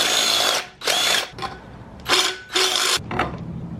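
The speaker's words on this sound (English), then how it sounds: "I guess I need to drill those holes out a little bit" A power drill whirs in several short bursts, pausing between each, as it enlarges existing holes, close and loud with no talking.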